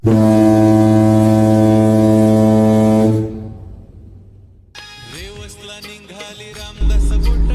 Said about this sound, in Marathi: सर्व प्रवासी बोटीवर चढल्याची खात्री झाली आणि बोटीचा भोंगा वाजला